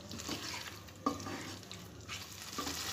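Murg kali mirch gravy being stirred over a low flame, a steady soft scraping and gentle sizzle in the pan with a light utensil clink near the middle, no voices.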